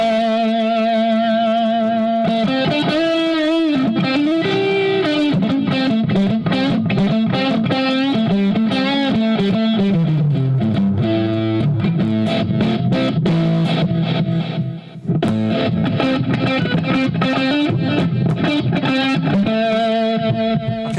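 Electric guitar played loud through a Positive Grid Spark amp on its Deluxe Reverb model, sustained chords and melodic lines ringing continuously for about twenty seconds with no talking.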